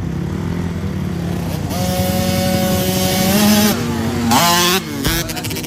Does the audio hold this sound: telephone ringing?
no